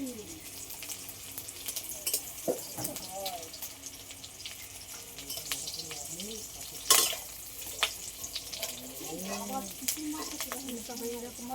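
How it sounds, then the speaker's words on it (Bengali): Fritters (bora) fry in hot oil with a steady sizzle as a utensil scrapes and clinks in the pan, and water runs from a tap in the background. "ভেজে নিয়েছি ভাজা হয়ে গেছে"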